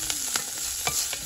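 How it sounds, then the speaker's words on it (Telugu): Onions frying in a pan for a black-eyed pea snack, with a steady sizzling hiss and several scraping stirs spaced through it, close and alone with no talk. "అండ్ కొంచెం ఆనియన్స్. వేసి ఇలా కొంచెం వేగనిద్దాం."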